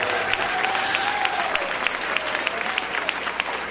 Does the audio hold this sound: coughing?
no